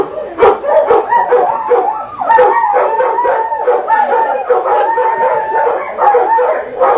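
Several dogs howl and yip together in a drawn-out chorus, joining distant coyotes outdoors, the wavering howls overlapping continuously and fairly loud throughout.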